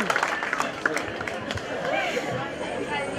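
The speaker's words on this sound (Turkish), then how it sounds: "Alkışlar arkadaşlar bu işi ya." Guests clapping at a Turkish henna night ceremony, a brief burst of scattered applause under crowd chatter that fades into murmuring voices.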